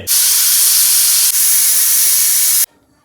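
A pressure cooker boiling banana flowers vents steam in a loud, sharp, continuous hiss, with a brief dip midway before cutting off abruptly near the end.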